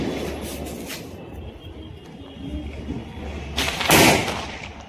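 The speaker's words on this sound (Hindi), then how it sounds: "ये आलू बम है कि कौन सा है? गजब आवाज कर रहा है।" A loud aloo bomb firecracker bursts at a Dev Deepavali celebration, one sharp boom standing out near the end above a steady background of crowd noise and distant festival crackle.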